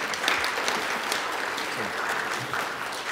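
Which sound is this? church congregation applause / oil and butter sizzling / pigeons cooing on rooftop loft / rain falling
church congregation applause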